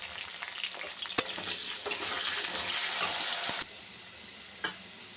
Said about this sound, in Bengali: তেলটা গরম হয়ে গেছে, আলুটাকে ভেজে নিই।